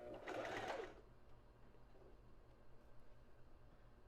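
A domestic sewing machine runs a zigzag stitch along lingerie fabric in one short, fairly loud burst of rapid needle chatter, then stops, leaving a quiet hum and faint handling noise.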